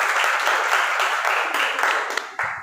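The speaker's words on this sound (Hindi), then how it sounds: "ताली बजाइए आप लोग।" Students at a Ramcharitmanas-themed event at TRS College Rewa clap steadily in a hall, a broad wash of applause that fades briefly and returns near the end.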